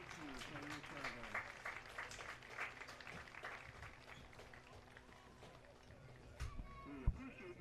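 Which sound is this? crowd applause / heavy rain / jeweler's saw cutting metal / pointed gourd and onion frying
crowd applause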